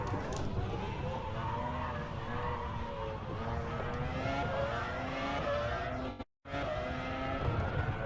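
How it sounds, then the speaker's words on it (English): Race cars in the rFactor 2 racing simulator, played in VR, roar continuously with engine notes climbing and shifting through gears, with a brief full dropout near the end before the engine sound resumes. "absolute adrenaline here driving in these cars"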